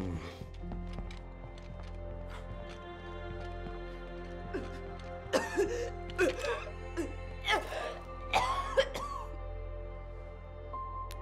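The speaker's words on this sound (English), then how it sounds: "where is all this coughing and hacking coming from?" Coughing and hacking in a nighttime horror video game come as scattered raspy bursts, mostly in the second half, over a steady low hum and faint game tones, with someone talking now and then.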